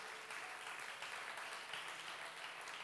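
Church congregation applauding during an evening service, steady dense clapping filling the whole moment at a moderate, even level with no talk over it.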